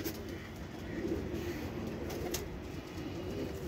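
Shah pare pigeons coo in a low, steady murmur on a rooftop loft, a continuous soft rumble of calls with faint background hiss and no voices.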